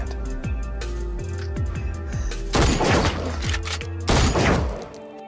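Rapid bursts of movie gunfire crack and echo, with two louder volleys of shots and low booming tails between them.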